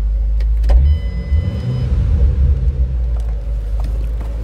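Interior of a 2007 Ford Mustang Shelby GT coupe with a 5-speed Hurst shifter: a deep, throaty engine rumble rising briefly with a throttle blip, then settling into a steady low idle burble.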